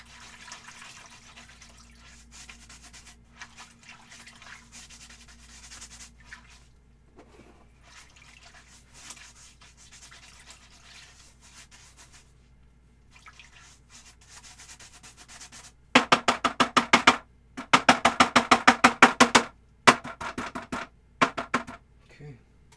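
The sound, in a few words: cleaning an oil painting brush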